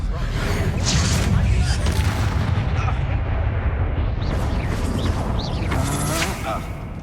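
A fire-blasting Confringo spell explodes in the video game Hogwarts Legacy, a dense, loud roar of booming impact noise that holds steady for several seconds before easing off.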